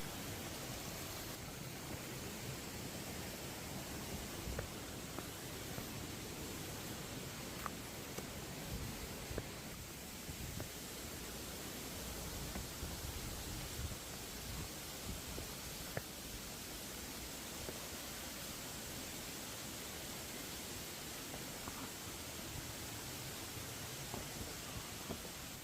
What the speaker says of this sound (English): And then the water flows down here, and then there are further waterfalls down there